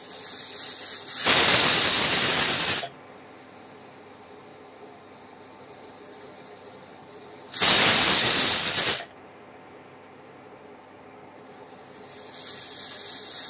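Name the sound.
pressure cooker hissing steam while boiling moong dal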